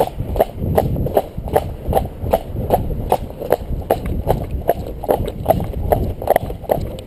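A horse's hooves clop in a steady, even rhythm on firm ground, close and moderately loud, with a soft rumble of movement underneath.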